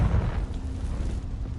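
A Confringo blasting spell explodes in the video game Hogwarts Legacy, a loud low burst at the start that settles into a deep, rumbling roar.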